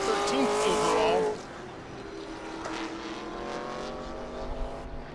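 Race cars, including a bright yellow Corvette, roar past during an SVRA International GT sprint race at Road Atlanta. A loud engine note sweeps by up close for about a second, then drops to a steadier, more distant drone of cars on track.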